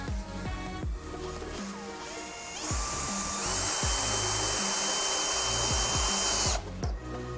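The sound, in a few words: power drill driving a screw into wood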